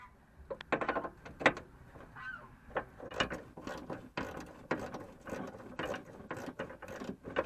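Hand ratchet backing out fog light bracket bolts on a Dodge Ram, quick bursts of sharp clicking pawl strokes in uneven runs with short pauses, close and fairly quiet, no talk.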